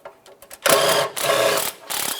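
A 13mm ratchet backs out oil pan mounting bolts on a 1994-2002 Dodge Ram 2500, giving close, loud bursts of rapid clicking separated by short pauses.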